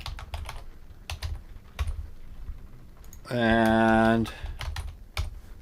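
Rapid clicks of a computer keyboard come in irregular bursts, close and clear, with someone talking and a brief sustained tone partway through.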